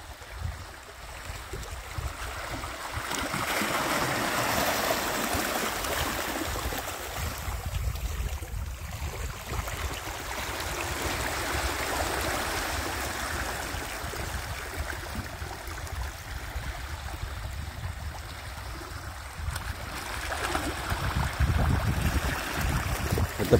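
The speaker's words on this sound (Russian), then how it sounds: "Это прилив идет сюда." The tide comes in on the Arctic Ocean coast in Norway, a continuous broad rush of waves and surf with gentle swells in loudness and some wind, with no voices.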